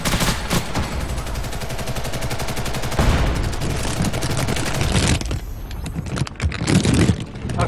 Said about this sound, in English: Somebody's gun has glitched out, it's just constantly firing.